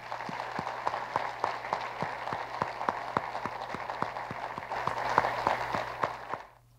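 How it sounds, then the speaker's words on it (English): An audience at a university address applauds its leaders, a steady wash of many hands clapping at moderate distance with no voices over it, swelling briefly near the end before fading out. "Please join me in giving them a well-deserved round of applause."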